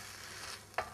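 Rice tossed with ginger in a hot pan, a soft continuous sizzle and stir with one brief louder scrape or toss near the end, heard alone.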